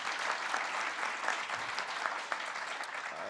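Audience applause at a presidential speech on tax cut extension, steady dense clapping filling the room without pause.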